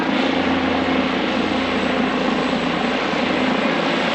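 Helicopters land and fly at a busy backcountry helibase used for scooping up water, giving a loud, steady, close rotor roar with a constant low throb and no talk.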